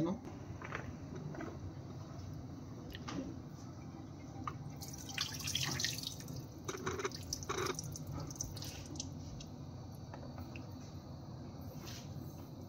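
Bugnay berries washed in water give quiet drips, trickles and splashes scattered through the clip, while a person talks over them.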